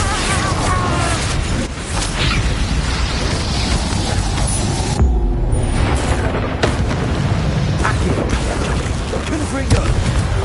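Repeated Confringo fire-spell blasts in a Harry Potter style video game, dense booming explosions layered over continuous battle noise and spell effects, loud and close throughout the clip.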